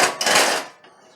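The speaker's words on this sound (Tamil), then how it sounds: "கடாயை வச்சுருவோம்." A metal kadai wok clanks down onto a kitchen stove, a single close scraping metallic impact that fades within a second.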